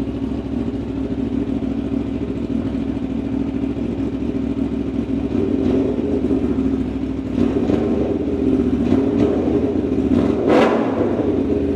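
An Aprilia Tuono motorcycle, which shares its chassis and engine with the Aprilia RS-V4, idles with a loud, steady engine hum, then gives several short revs that rise and fall near the end.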